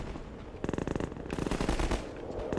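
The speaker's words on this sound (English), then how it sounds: "Who's shooting?" Rapid automatic gunfire in the shooter game Half-Life 2 rattles out in two quick bursts of evenly spaced shots at moderate level, with no talking over them.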